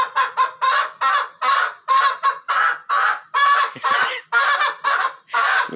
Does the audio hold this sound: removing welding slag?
no